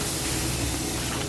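Noodles frying in hot oil for restaurant-style fried noodles, giving a steady, loud, close sizzling hiss that holds evenly with no breaks or talk.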